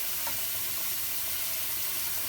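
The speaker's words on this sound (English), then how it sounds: "Then we're just gonna stir that in there and just allow it to simmer on a low." New Orleans style jambalaya simmering on low heat in a pot, a continuous soft hiss and gentle bubbling, close and even with no other sounds.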